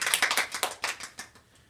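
A few people in a presentation audience clap sparsely, a short run of distinct, uneven hand claps that slows and dies out within about two seconds.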